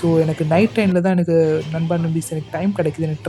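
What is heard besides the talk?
None of the usual background noises is heard.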